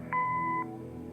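A single answering machine beep in the Kathy Rain game: one clean electronic tone lasting about half a second, clear and close over a faint low hum.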